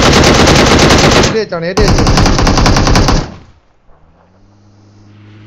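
Rapid machine-gun bursts hammer loud and close in a video game firefight, two long volleys split by a short pause, then fading into quieter game sounds while a player shouts briefly between the bursts.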